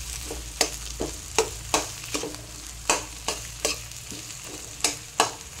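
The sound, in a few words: dosa batter sizzling on hot pan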